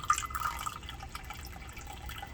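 Water pours into a container as half a cup is added to a small homemade mouthwash batch with soap and peroxide, a quiet trickling splash over a couple of seconds.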